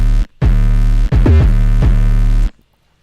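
Distorted 808 bass for a Brazilian phonk remix, three loud gritty booming notes with harsh overtones and a pitch slide in the middle, then silence.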